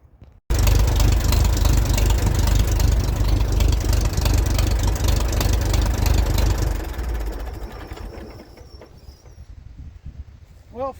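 A 1949 Minneapolis Moline Model R (RTS) tractor engine runs loud and steady at close range with a low, throbbing idle for most of the stretch, then drops off to a quieter, more distant running sound near the end.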